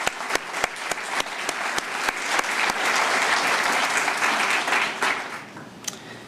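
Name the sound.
applause for the Vinton Town Council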